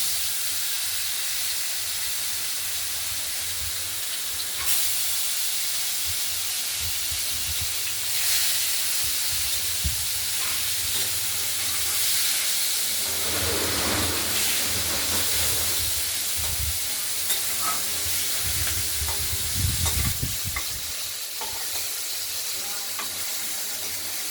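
Continuous hissing sizzle of rohu fish pieces frying in hot oil, steady throughout, with occasional low clunks and bumps of handling in the background.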